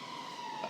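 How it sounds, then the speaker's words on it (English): A police car siren sounds faintly in the distance as a thin, steady wail that holds for under a second over a low background hiss. "Forgive me, that's a police car."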